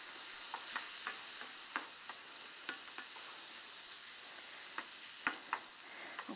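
A small splash of liquid sizzles and steams off in a pan of stir-fried vegetables, a steady soft hiss broken by scattered light clicks and pops, with no voices.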